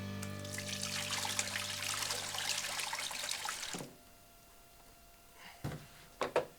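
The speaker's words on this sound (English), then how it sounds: "Go ahead and pour some of our mix in there." Soft-serve mix is poured into the hopper of an Electro Freeze CS700 machine, making a steady liquid stream for several seconds. A hum runs under the pour, and a few brief splashes or clunks follow.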